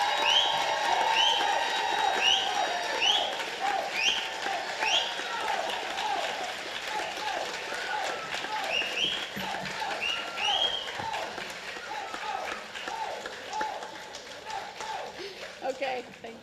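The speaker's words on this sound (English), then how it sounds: "everybody just give them one more round of applause" A crowd at a radiography graduates' pinning ceremony gives sustained applause, with cheers and whoops rising over the clapping as it rolls on steadily, then thins near the end.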